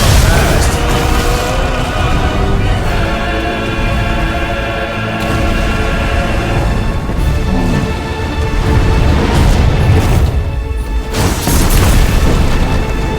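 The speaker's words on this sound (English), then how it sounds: "I'll try to do the explosion thing again." Explosion triggered in the video game Final Fantasy 16, a loud, sustained booming rumble with layered blasts and crackling bursts that swell and fade repeatedly over the whole stretch.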